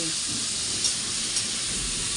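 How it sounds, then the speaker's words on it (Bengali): Prawns frying in a pan in a home kitchen on a rainy day, giving a steady, dense sizzle and hiss throughout with a couple of faint clinks, with no voices. "এখানে চিংড়ি মাছটা ভাজা চলছে"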